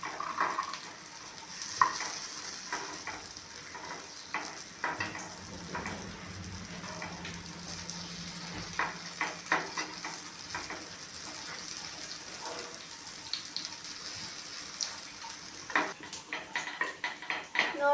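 Masala paddu cooks in a paddu pan with a soft, continuous frying crackle. Scattered light clicks and scrapes of a utensil against the pan run throughout, with a few louder clatters near the end.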